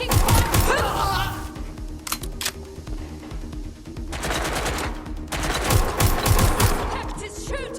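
Rapid automatic gunfire erupts in a Watch Dogs: Legion shootout, loud close bursts of clattering shots in several volleys separated by brief lulls with softer combat noise.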